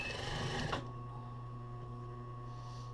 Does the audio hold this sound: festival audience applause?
no